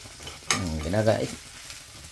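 Garlic sautéing in a pan for a beef and white bean dish: a soft sizzle under a short, squealing, scraping stir in the middle and a sharp clack at the end.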